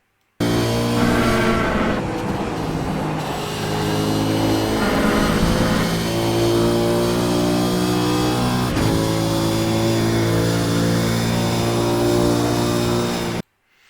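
A race car engine accelerates hard down the long straight at Road America, a loud, sustained harmonic roar with a couple of abrupt shifts in pitch, heard up close and without talking.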